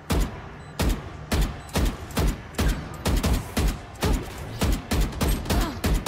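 Gunfire in the tactical shooter Valorant, a rapid series of about a dozen sharp, loud shots in quick bursts, evenly spaced and close, with no talk over them.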